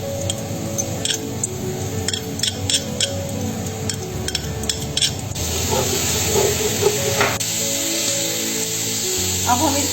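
Garlic goes into a pan of browned frying onions and crackles in a steady hissing sizzle that grows louder and brighter partway through, with faint scraping and stirring noises.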